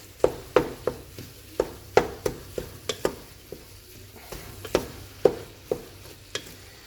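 Pasta tossed together with freshly chopped parsley, a series of crisp utensil knocks and scrapes at an irregular, fairly quick pace, close by with no talking.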